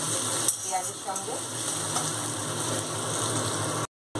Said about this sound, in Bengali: আদা বাটাটা আমি 1 মিনিট একটু তেলের মধ্যে নাড়াচাড়া করে নেবো পেঁয়াজের সঙ্গে